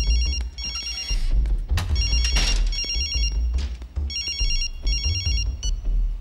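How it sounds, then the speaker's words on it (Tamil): A telephone rings in repeated bursts of bright electronic trilling, several short rings separated by pauses, loud and close over a busy background of knocks and thumps, with no talk. "நான் இவ்வளோ நேரம் ஃபோன் பண்ணுறேன், அட்டன் பண்ண முடியாதா?"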